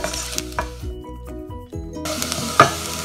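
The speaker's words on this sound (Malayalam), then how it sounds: "ഈ മുളക് പൊടി ഒന്ന് നന്നായി മൂത്ത് വരണം." Chili powder frying in a pan for a milkfish curry, a soft close sizzle with a few stirring scrapes and a sharp clink of a utensil near the end.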